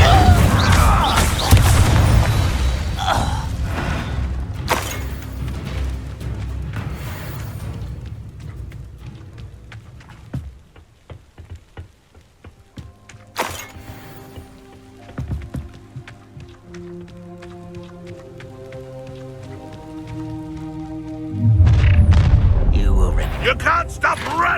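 A fiery Incendio spell blast in the Hogwarts Legacy video game erupts with a loud boom, followed by crackling, rumbling game effects and music, then another heavy surge near the end.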